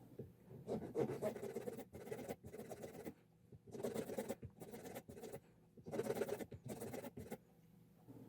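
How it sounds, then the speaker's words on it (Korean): A hand file smoothing the surface of a wax carving for a chain, heard as faint, close bursts of scratchy strokes in groups separated by short pauses. "줄로 면을 다듬습니다."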